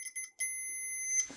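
A volt ohm meter gives a clean, high electronic beep as a bent test bar closes its contact, a couple of short chirps followed by one sustained tone, close and alone.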